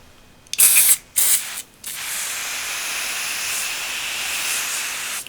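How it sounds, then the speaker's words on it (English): Two short, loud hissing bursts of Amber Clens cleaner sprayed onto the control panel of a Fender Blues Deluxe III amplifier, close to the mic, followed by a quieter steady hiss as the spray settles. "I'll give it a spray with Amber Cleanse"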